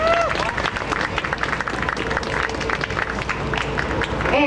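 An outdoor crowd on Governors Island claps and cheers for a band, with steady applause throughout and some chatter mixed in.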